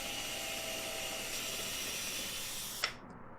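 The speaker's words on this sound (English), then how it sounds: "I'm actually drilling a 3/8 inch hole here to accept a dowel" A power drill boring a 3/8 inch hole into cedar wood, a steady whine that runs close and fairly loud for about three seconds, then cuts off abruptly with a brief clatter, no voices.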